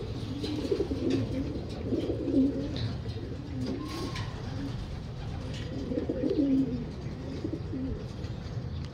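Pigeons coo steadily from a loft as a flock heads out, low throaty calls repeating in a continuous murmur close by, with no talking over them.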